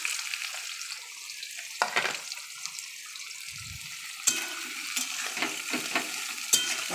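Sliced onions drop into hot oil and sizzle steadily in a pan, a close crackling hiss punctuated by a few spoon scrapes and clacks as they are stirred.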